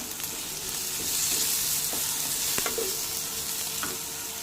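Green chillies and tomatoes sizzle steadily while being stirred in a hot pan, with a few sharp scrapes and clicks of the spoon against the metal over a continuous frying hiss.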